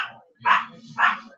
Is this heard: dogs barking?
yes